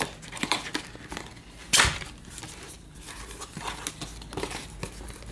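Packaging of a Blue Yeti USB microphone being unboxed up close, with scattered crinkles and rustles of cardboard and plastic and one sharp tearing rip partway through, without speech.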